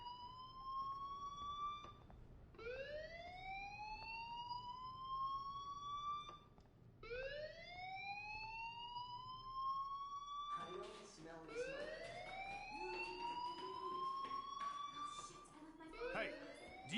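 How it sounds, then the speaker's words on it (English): A fire alarm wails in repeated rising sweeps, loud and continuous. Near the end, overlapping tones and extra clatter build up. "Hey, do you hear that fire alarm?"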